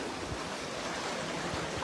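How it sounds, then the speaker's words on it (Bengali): Flood water from the Khowai River surges against a railway embankment near a bridge, a steady rushing wash with faint low thuds of water striking, heard briefly and moderately close. "এই যে পানি কিন্তু ডামে এসে বাড়ি খাইতেছে"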